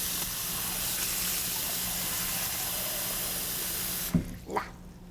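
Water gushes steadily from a kitchen tap, a loud, close, continuous rush that cuts off abruptly near the end and is followed by a couple of small knocks.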